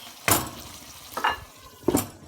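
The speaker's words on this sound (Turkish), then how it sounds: "Kazımızın göğsü pişmeye devam ediyor." Goose breast meat sizzling in a frying pan as it is stirred, with three sharp scraping bursts of stirring over a steady low sizzle, close and alone.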